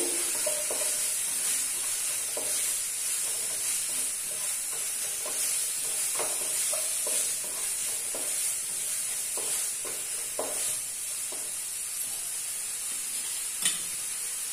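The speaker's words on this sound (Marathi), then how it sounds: "तेलात मी चांगले परतून घेते." Onion, tomato and ginger-garlic paste sauté in hot oil for a prawn masala, giving a steady close sizzle throughout with repeated scraping stirs of a spoon against the pan.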